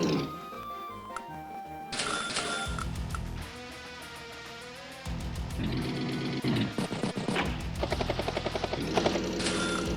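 A T-copter unit in the strategy game Advance Wars whirs with chopping, mechanical game-sound effects that shift in bursts over layered electronic music, fairly loud and without speech.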